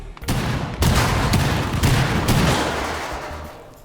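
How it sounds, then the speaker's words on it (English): A Fuze cluster charge detonates in a tactical shooter game, a rapid string of four or five loud, sharp explosive blasts in quick succession, then a rumbling tail that fades. "Detonating cluster charge."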